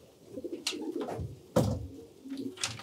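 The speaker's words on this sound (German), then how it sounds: "Die Tauben können jetzt nicht mehr durch die offenen Ausflüge hier in die Zelle" Pigeons cooing inside a loft cell, a few soft low coos and rustles close by, with a sharper knock partway through and no talking.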